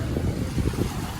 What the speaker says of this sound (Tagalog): Ayun o, ito yung mga bangka.